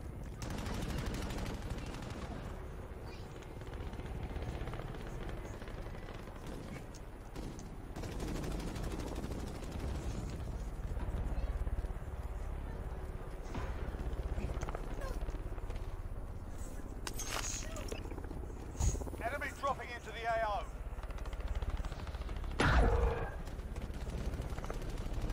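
Lever-action marksman rifle in a Call of Duty match, fired amid a steady din of distant battle gunfire, with a few sharper nearby shots standing out over the continuous background noise.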